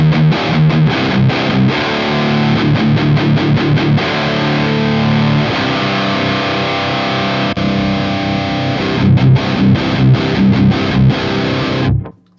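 An electric guitar driven through a Generator MK III Rev B distortion pedal plays loud, saturated chords and choppy stabs, with a stretch of sustained ringing in the middle before the final hits cut off.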